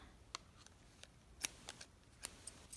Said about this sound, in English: cut off that yarn